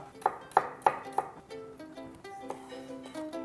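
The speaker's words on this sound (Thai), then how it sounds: "เราก็จะมา ซอยเครื่องบางๆนะครับ เตรียมไว้ก่อนเลยครับ" A knife thinly slices chili peppers on a cutting board in a kitchen, four quick crisp taps followed by softer, irregular cuts against a background of faint tonal sound.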